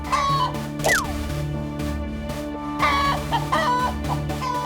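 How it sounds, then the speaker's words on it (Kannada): Hens cluck repeatedly in short bursts over a steady low hum, with a rooster-like call rising briefly; no one speaks. "ಇದ್ದಕ್ಕಿದ್ದಂತೆ ಅವರಿಗೆ ಕೋಳಿಗಳು ಕೂಗೋದು ಕೇಳಿಸ್ತು"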